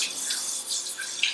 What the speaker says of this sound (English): But right now, rinse out the pan. Always rinse out your pan